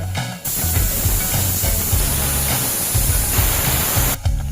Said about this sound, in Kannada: ಆದ್ರಿಂದ 4 ವಿಸಿಲ್ನ ಬರ್ಸ್ಕೋಬೇಕು